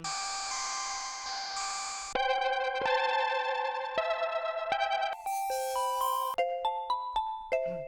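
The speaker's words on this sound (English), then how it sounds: "I've noticed it's got a lot of like hyper poppy plucks" Bright synthesizer plucks with bell-like tones play a sequence of notes, shifting between sustained chords and short ringing hits, loud and close.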